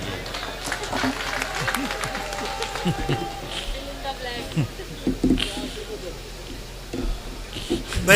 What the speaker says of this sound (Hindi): आप लोग तालियां बजाइए